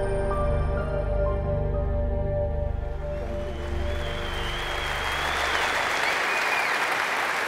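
Sustained audience applause at a Veterans Day welcome-home event for Vietnam veterans, a steady wash of many hands clapping that rises as music fades out underneath, then continues loud and full on its own.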